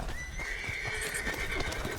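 A horse in the Red Dead Online video game whinnies in a long, wavering neigh lasting about two seconds, loud and close over a steady ambient background.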